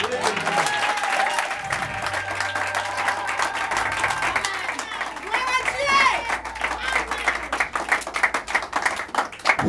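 Church congregation clapping and cheering for God at a service, sustained loud applause from many hands with shouting voices and a tonal backing sound throughout.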